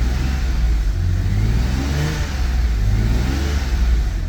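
A BMW E31 850i V12 that had sat abandoned for 15 years revs hard on old gas, a loud, steady engine roar that rises and holds with slight wavering throughout, close by and with no talk.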